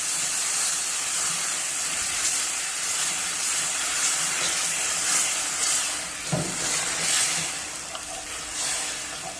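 Tomatoes hitting a hot pan for chana masala, a loud continuous broadband sizzle and hiss that holds steady throughout with a brief clunk of a utensil near the end.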